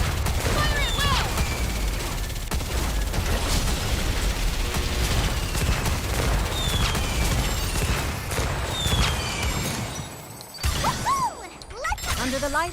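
Dense, continuous gunfire and explosive bursts in the mobile shooter Nikke during a hard-mode Union Raid, with whooshing effects and chirpy game sounds layered over a steady, loud battle din, briefly dropping out before resuming.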